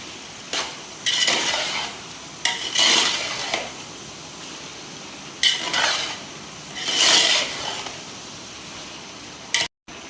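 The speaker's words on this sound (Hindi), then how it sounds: "मिक्स करेंगे इसको अच्छे तरीके से और इसकी भुनाई करेंगे तकरीबन 5 से 7 मिनट के लिए" Metal spoon scraping and stirring 2 kg of chickpeas being roasted in a large pot for chana biryani, in a few separate bursts of clatter with quieter pauses between them.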